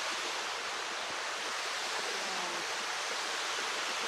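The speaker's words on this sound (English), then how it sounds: "waterfall. Beautiful waterfall." Steady broadband rush of a waterfall on a hiking trail in Hong Kong, near and constant for the whole stretch with no talk.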